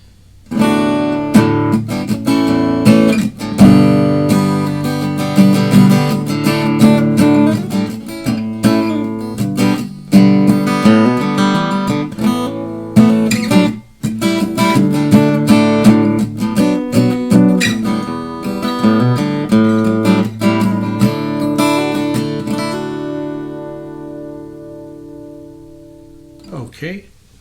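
An acoustic guitar plays through a BOSS AD-10 acoustic preamp with its EQ switched off, strumming and picking continuously with full, ringing chords. The playing fades out at the end, and there is no talking over it.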